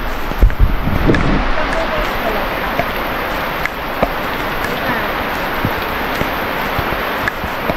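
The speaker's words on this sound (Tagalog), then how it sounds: "Lakas ng ulan!" Steady, dense rain pours down across the whole stretch, a constant broadband hiss with scattered drop impacts and a few brief thumps near the start.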